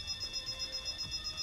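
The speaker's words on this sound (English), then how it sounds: "Amid blaring alarms and blazing red flames" Alarm blaring in the video game Goddess of Victory: Nikke during a lab emergency, a steady high-pitched electronic tone pulsing in an even rhythm about five times per second, loud and continuous with no voices.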